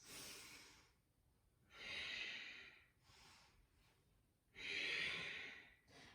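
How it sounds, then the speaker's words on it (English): Deep Ujjayi breathing during yoga, with slow, hissing inhales and exhales that rise and fall in long, even waves, close and soft, with no talking. "Deep Ujjayi breaths."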